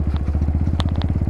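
A Kawasaki W175 motorcycle rumbles along on the road, its single-cylinder engine thumping in a steady rapid pulse, close and fairly loud, with a few light clicks and rattles over it.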